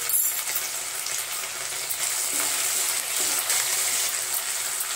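Samosa filling sautéing with asafoetida in a pan gives a steady, close sizzle with faint stirring scrapes, continuous throughout and with no talking.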